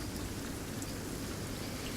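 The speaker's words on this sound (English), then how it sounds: "it's just heavy rain" Heavy jungle rain in a tabletop game ambience forms a steady, dense wash of downpour with no distinct drops or pauses, and no voices.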